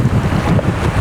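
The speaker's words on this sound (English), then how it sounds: "You can probably see it's quite rough today, quite windy." Strong wind buffets the microphone beside a rough, choppy lake, with a steady low roar and lapping water filling the short stretch without any voices.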